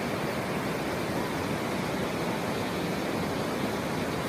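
Heavy torrent of water rushing from the opened gates of Srisailam dam at night, a loud, steady, broadband roar like a waterfall with no breaks or voices.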